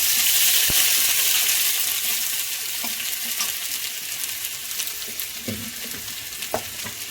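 Ginger paste fries in oil in a pan, a loud bright continuous sizzle that eases slightly over time, with occasional soft stirring knocks.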